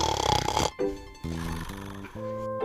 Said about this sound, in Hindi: रोज की तरह गुरुजी कुर्सी में बैठे बैठे खर्राटे लेने लगे।